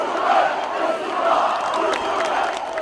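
A massive street protest crowd roars with continuous chanting and cheering, dense and loud throughout with no single voice standing out.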